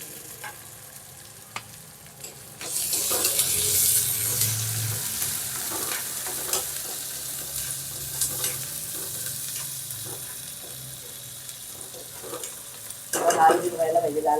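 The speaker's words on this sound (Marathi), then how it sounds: "मिरची आणि कांदा एकत्र टाकून देणार." Chopped onion and green chillies dropped into hot oil for Kokani javla masala, bursting into a loud sizzle that settles into steady frying with occasional stirring and a fresh flare of hiss near the end.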